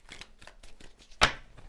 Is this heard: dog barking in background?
no